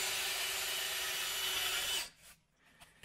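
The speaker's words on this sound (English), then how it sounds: "Now I can drill the hole for the bolt. I'm going to drill a small pilot hole first." Drill boring a small pilot hole into soft wood for a bolt, a steady close whirring grind for about two seconds that then stops abruptly, leaving near silence.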